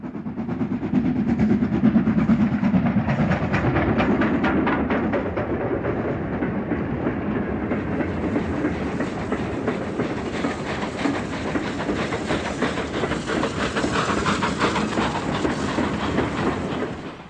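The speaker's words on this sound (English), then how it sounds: "an Austerity climbs from Thornton towards Markinch, banked by a J37" Austerity steam locomotive climbing from Thornton towards Markinch on the East Coast Main Line, banked by a J37, a loud continuous labouring chuff with rail clatter that steadies and brightens as the train passes close by.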